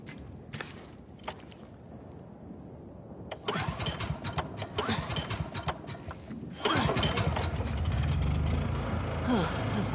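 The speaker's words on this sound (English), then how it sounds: "Hey, found the generator." A generator engine in a video game cranks and catches, with sputtering starts followed by a mid-pitched motor settling into a louder, steady run. A voice is heard briefly near the start.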